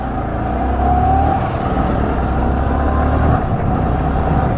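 A vehicle engine idles smoothly after its tappet nuts were repaired, a steady, even rumble close by with no rattle or knock, running continuously without speech.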